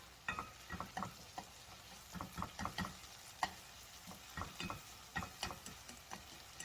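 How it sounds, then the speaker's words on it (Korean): Sweet potato stems are stirred and fried in broth in a pan, with close, irregular scraping and clattering strokes over a low, steady sizzle. "제가 먼저 지금 요 고구마순이랑 이렇게 여기에서 이제 요 국물에서 이걸 볶으니까"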